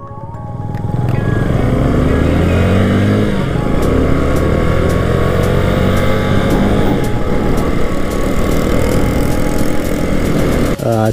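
A new motorcycle's engine runs steadily and loudly throughout, a continuous close rumble with slight shifts in pitch as it rides along in the Philippines.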